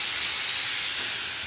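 A pressure cooker whistle lets out a steady, loud hiss of escaping steam while mutton cooks inside, one continuous burst with no voices.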